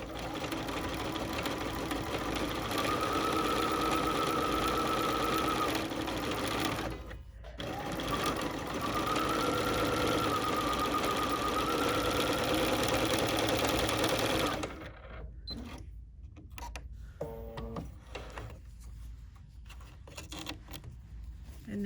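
Sewing machine stitching a shirt hem, a steady, fast mechanical whir up close, broken by a brief pause, then stopping around fifteen seconds into soft handling clicks and rustles.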